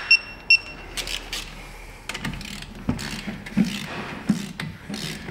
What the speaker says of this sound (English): Tighten it up till it's snug